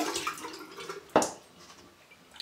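Water runs and drips as a synthetic shaving brush is wetted, with a soft trickle and one sharp splash midway, close and quiet.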